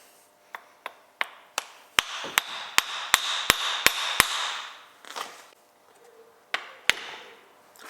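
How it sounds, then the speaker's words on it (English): A CV joint tapped onto the driveshaft of a 2007 Honda CR-V to seat it past the C-clip: a quick series of a dozen sharp metallic hammer blows, close and steady, then a pause, rustling and one final strike. "You want to give it a light blow on the end until you feel it pop over that C-clip"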